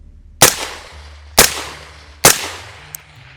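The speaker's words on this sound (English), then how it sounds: "Drop it, shoot 3 shots, pick it back up, drop it again, shoot another 3 shots." Three pistol gunshots fired outdoors after dropping the gun, loud sharp cracks spaced about a second apart with short echoing tails, followed by a faint metallic click.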